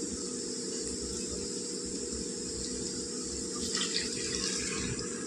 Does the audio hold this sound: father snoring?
no